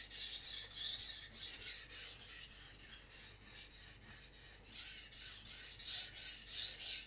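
A dulled knife blade is drawn across a sharpening stone in repeated rasping strokes, a steady rhythm of about a dozen close, scratchy passes with no talk.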